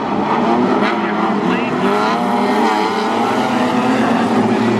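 Wingless sprint cars roar off a heat-race start at Timmis Speedway in Mildura, a loud, dense pack of open-wheel engines at full throttle throughout, with a race commentator talking over the din.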